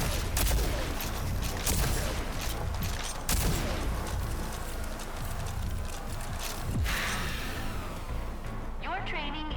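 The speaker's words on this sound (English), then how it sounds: "Use the combat shotgun's overdrive against the simulated enemies" The combat shotgun's overdrive in RAGE 2 fires a rapid run of heavy, booming blasts that pile into a dense barrage, with a voice talking over the gunfire.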